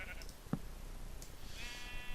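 A sheep bleating in the video game Nomadic, a few short faint bleats over a low ambient background, with no one speaking.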